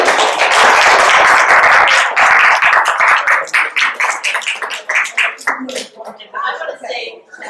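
An audience applauds at the close of a talk at a Southold Peconic Civic Association meeting: loud, full clapping at first that gradually thins into scattered, individual claps before dying away.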